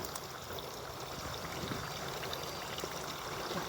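Water poured steadily onto an avocado tree in a field, a continuous soft rushing splash that stays even and fairly faint throughout.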